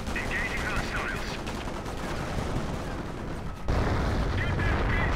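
Battlefield gunfire in the WWII strategy game Company of Heroes, dense rattling machine-gun bursts and shots mixed with explosions, loud and continuous throughout, with a heavier boom partway through and shouted game voices underneath.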